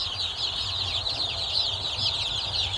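Newly hatched chicks in a brooder, a dense, continuous chorus of high shrill peeping close by over a low steady hum.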